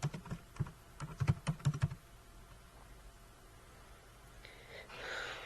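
Quick bursts of keystrokes on a computer keyboard, about a dozen close clicks in the first two seconds, then near silence with faint rustling.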